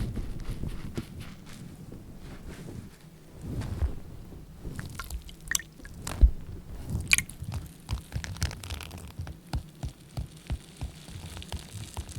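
Scrub Daddy sponge being scratched and squeezed in soapy water, heard up close as irregular crunchy, squelching strokes and drips that turn into a quicker rhythmic run of scrubs toward the end, with no voice.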